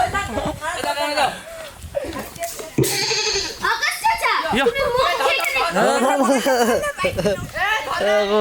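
A goat bleats repeatedly in wavering, nasal cries on a busy behind-the-scenes shooting set, close and fairly loud, mixed with people talking and chattering throughout.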